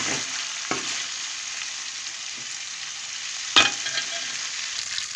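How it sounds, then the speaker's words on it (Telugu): Fish pieces from a pala bontha fish dish fry in hot oil with a steady, close sizzle, marked by a few sharper spatters and stirring clicks. "ముక్కలు కూడా వేసుకున్నామండి, ఫ్రై చేస్తున్నాను."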